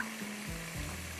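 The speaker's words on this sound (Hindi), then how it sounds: "जिंजर गार्लिक पेस्ट 1 टीस्पून भर के, उसको हम थोड़ा सा फ्राई करेंगे 2 मिनट के लिए" Ginger garlic paste frying in a pan for Schezwan prawns, a soft continuous sizzle with a faint low hum beneath it.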